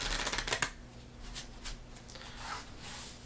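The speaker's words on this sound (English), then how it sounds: "I'll shuffle them all together" A deck of playing cards is riffle-shuffled together, giving a quick burst of crisp flutter and snaps early on, followed by softer rubbing and handling of the cards.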